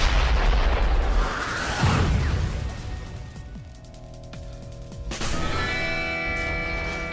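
A loud, close blast as an escape pod is fired in Red vs. Blue, a heavy booming burst that rumbles and fades over several seconds, followed by a lingering tonal hum.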